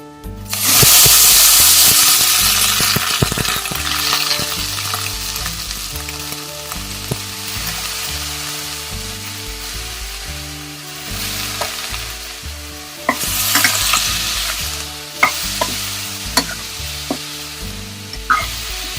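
Brinjal pieces drop into hot oil with red chilli powder for a village-style brinjal and potato curry. A loud burst of frying erupts and then settles into a steady sizzle, with spatula stirring and scraping clatters near the end.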